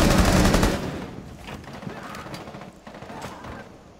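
Video-game gunfire outside a chalet in Rainbow Six Siege: a loud opening burst of rapid shots, then scattered distant single cracks and short volleys echoing at a lower level.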